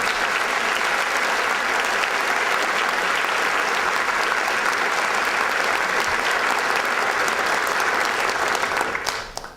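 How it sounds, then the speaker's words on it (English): A lecture audience gives sustained, dense applause for community volunteers, a loud, even roar of clapping that holds for several seconds before tapering off at the end. "Please join me in a session of applause for these fantastic volunteers."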